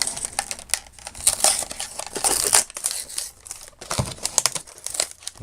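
Plastic LED pod light packaging crinkles and crackles up close as someone struggles to tear into it, with steady rustling and sharp crumpling bursts throughout.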